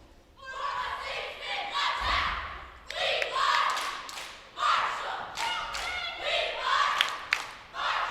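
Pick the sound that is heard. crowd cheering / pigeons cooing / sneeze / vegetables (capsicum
crowd cheering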